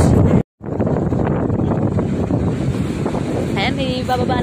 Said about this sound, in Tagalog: Bababa na po ang ating paglalayag, ang ating bangka.